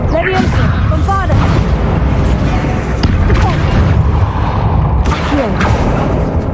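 Explosive Bombarda spell blasts ring out in a tomb in Hogwarts Legacy, set among other spell effects and busy game noise, with bursts near the start and again later.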